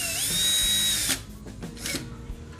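Power drill tightening screws on a PC case during assembly: a steady high whine runs for about a second and stops, followed by light clicks and handling noises up close.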